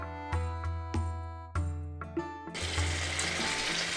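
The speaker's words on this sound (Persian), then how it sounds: "وقتی که داغ شد قابلمه‌تون یه تیکه کره توش بندازین و بعد مرغ میذاریم داخلش" Chicken hits hot butter in a pot for a Persian slow-cooked northern dish, giving sharp clicks and pops that build into a steady close sizzle in the second half.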